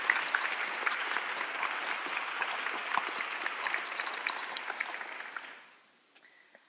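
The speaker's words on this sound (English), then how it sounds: "I think we should give her another round of applause" An audience at a bookshop author event gives Rebecca Solnit a warm round of applause. The clapping is fairly distant and evenly sustained with crisp individual claps, then dies away quickly into near silence with a faint trailing sound.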